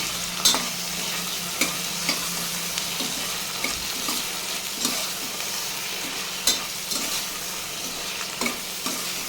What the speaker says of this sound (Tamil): சேர்த்துட்டு நல்லா வதக்கி விட்டுக்கோங்க தக்காளி வந்து நல்லா வதங்கி வரட்டும்